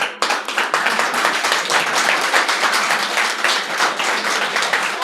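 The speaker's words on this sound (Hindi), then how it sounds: "और आपकी इतनी हल्की तालियों के लिए" A live audience at a Hindi poetry recital claps lightly and briefly: scattered, fairly close hand claps form a dense, rapid patter that holds evenly for several seconds.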